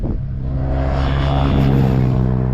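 Yamaha Ténéré motorcycles riding in the Andes, a steady loud engine drone with a low rumbling hum that builds slightly and holds throughout, no voices.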